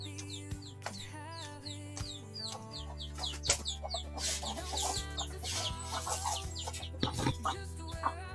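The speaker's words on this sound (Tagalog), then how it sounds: "tayo ay magpapakain ng manok" Chickens cluck and squawk steadily while being fed on a hot morning, with a constant low hum underneath and occasional clatter, close and fairly busy throughout.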